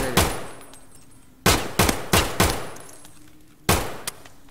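Gunfire in a shooter video game, five or six loud single shots and short bursts spaced irregularly, each ringing out with a decaying echo.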